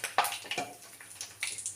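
Homemade hair oil with aloe vera and added water sizzles in a pan on the fire, giving soft, scattered little pops and crackles, faint and close, with no voices.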